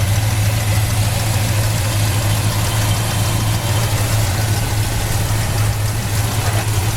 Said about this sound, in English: It's now powered by a great running 396 V8 engine.